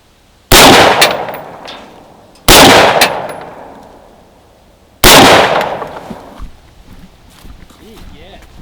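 Three loud, sharp rifle shots fired at a 25-yard range while zeroing the sights, spaced about two and a half seconds apart, each with a ringing decay, followed by faint movement and a murmur of voices.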